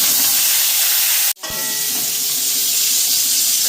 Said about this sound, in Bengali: আমার একই তেলে আমি পটলগুলো ভেজে নিচ্ছি